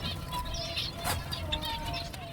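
Many finch chicks in a breeding aviary, more than fifty of them, give thin, high chirps that come and go steadily at moderate distance, mixed with faint background bird calls and no talking.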